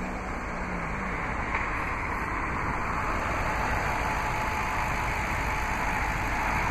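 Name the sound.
2007 Audi S4 Quattro 4.2-liter V8 engine idling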